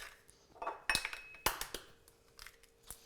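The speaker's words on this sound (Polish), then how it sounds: "Najpierw rozbijemy dwa jajka." Two eggs cracked for pancake batter in a home kitchen, heard as sharp clicking taps and shell cracks spread over about three seconds, close and moderately loud with faint clinking of dishes and utensils around them.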